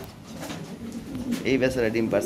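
Close, soft pigeon coos rise in a short burst of warbling calls, several overlapping, with a faint murmur underneath; pigeons including Lahori, show king, Modena and frillback breeds.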